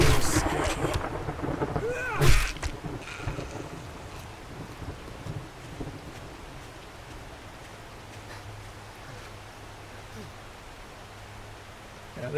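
Rain and thunder in the survival video game 7 Days to Die: a loud thunder crack early on, then steady rain hiss that fades to a softer patter, with someone talking over it.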